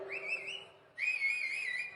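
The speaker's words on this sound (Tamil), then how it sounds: "10 ரூபா பாட்டில் என்ன விசில் அடிக்கிறீங்க?" Two sustained, wavering whistles rise from a political rally crowd in Ranipet, the second louder and held longer, with no speech over them.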